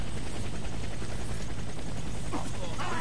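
Helicopter in a video game during an extraction: a steady, loud rotor and engine roar fills the scene without pause, with some game noise near the end.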